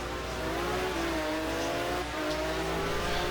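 A GT1 race car approaches Moss corner at Mosport, its loud engine droning steadily with shifting tones as it brakes hard and downshifts, continuous and close throughout.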